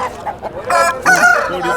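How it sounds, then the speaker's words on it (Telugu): Fighting roosters at a weekly Thursday chicken market in Galiveedu give loud, close, strained crowing calls in quick succession. "పడుకొని కొట్టే కోళ్ళు అంటారు కదా ఇవే అనమాట"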